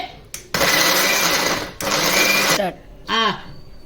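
A kitchen mixer grinder whirs loudly in two sustained bursts blending cooked brinjal with salt, then a short pulse as it spins down, close and alone.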